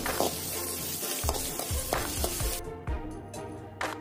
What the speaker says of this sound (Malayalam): ഇനി ഇതിനകത്തേക്ക് ക്യാപ്സിക്കവും പച്ചമുളകും കൂടി ഇട്ട് കൊടുത്തിട്ടൊന്ന് വഴറ്റി കൊടുക്കാം